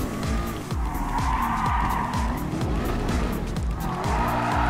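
A Ford GT drifts in Gran Turismo Sport, its engine revving in repeated rising and falling sweeps while the tires squeal loudly and continuously.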